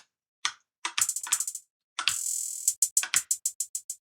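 Keys clatter on a MIDI keyboard during a beat-making session, with quick clusters of sharp plastic clicks and taps in uneven bursts and a brief held rattle partway through, close and fairly quiet.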